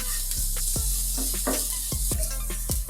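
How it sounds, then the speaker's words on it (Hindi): Maida being roasted dry in a pan for chicken bread patties, a steady close sizzle with repeated scraping knocks of a spoon stirring against the pan. "और मैदे को अच्छे से भून लेंगे इसमें।"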